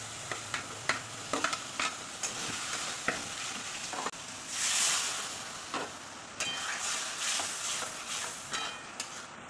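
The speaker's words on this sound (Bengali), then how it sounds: "এবার আমি আলুগুলো দিয়ে দিচ্ছি" Potatoes dropped into hot oil and spices in a pan for a vegetarian chhanar dalna, with steady frying sizzle, several sharp stir and clatter hits, and a louder surge of sizzle midway.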